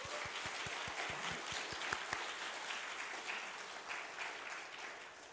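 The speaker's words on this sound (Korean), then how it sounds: "박수 한번 해주시겠어요?" Church congregation applauding during a Korean Presbyterian Sunday worship service, a steady wash of many hands clapping at even loudness throughout, with a few sharper individual claps standing out early on.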